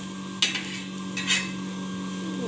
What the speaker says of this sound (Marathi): इकडं मी आमटीचा मसाला भाजते म्हणजे आमटी करणार आहे मी आज